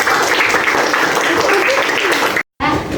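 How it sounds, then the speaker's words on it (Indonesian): A room full of participants at an academic supervision coaching session bursts into loud, dense, sustained applause with voices mixed in, then a brief cut to silence before the clapping resumes. "Oke, tepuk tangan lagi sedikit"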